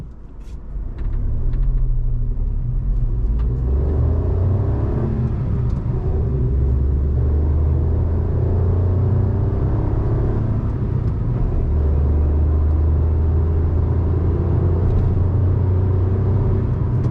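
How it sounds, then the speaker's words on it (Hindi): A 2022 Maruti Celerio CNG hatchback accelerates from standstill toward 100 km/h, a steady droning engine rumble with road noise heard from inside the cabin, rising gradually with brief shift dips. "अब एक बार ट्राई कर लेते हैं कि 0 से 100 तक जाने में गाड़ी कितना क्या टाइम ले सकती है।"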